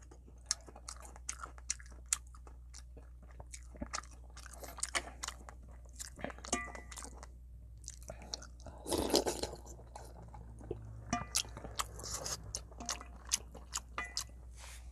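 Close, crunchy bites and wet chewing of a fiery hot green chili pepper, with sharp crackling snaps and soft squishing repeated throughout, and no talking.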